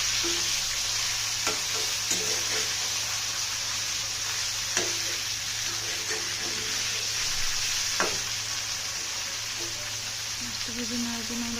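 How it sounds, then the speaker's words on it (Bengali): Pieces of pangas fish fry in hot oil in a pan, giving a steady, dense sizzle with occasional sharp pops and crackles, close and continuous throughout. "এখন মাছগুলোকে একটা একটা করে ছেড়ে দেব।"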